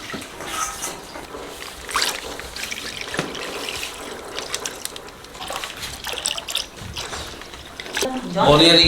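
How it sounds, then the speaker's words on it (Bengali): Milk is poured out in a busy home kitchen, a continuous liquid splashing and trickling that runs under voices talking nearby. "দুধটা ঢেলে নিচ্ছি"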